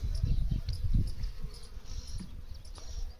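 Honeybees buzzing around an open beehive during hive tending, a steady close insect drone with faint, thin higher whines drifting in and out over a low rumbling background.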